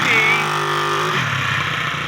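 A 1968 Honda 350 Scrambler motorcycle engine running close by, a steady mid-pitched hum that drops in pitch partway through and settles into a rougher idle.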